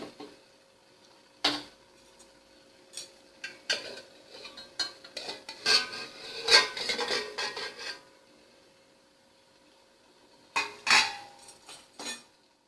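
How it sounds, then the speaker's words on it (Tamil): An idli steamer pot being opened, with metallic clanks and clatters of the lid and vessels in scattered bursts, then a quiet pause before a final cluster of knocks. "இப்போ இட்லி பாத்திரத்தை திறந்து பார்த்துடலாம் வெந்துடுச்சான்ட்டுன்னு"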